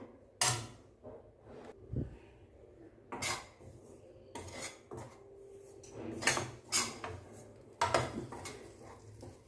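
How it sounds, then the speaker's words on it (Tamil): A spoon scrapes and clinks against a pan while flour is dry-roasted for Mysore pak, with irregular close metallic scrapes and taps at a low level, and no voices. "தீய விடாமல் நல்லா வறுத்து எடுத்துக்கோங்க"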